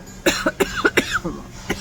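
A string of harsh, close coughs, about six or seven sharp bursts in quick irregular succession.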